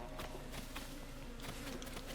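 Bees buzzing in The Legend of Zelda: Tears of the Kingdom after a beehive is knocked down, a steady insect drone running for the whole stretch with no talk.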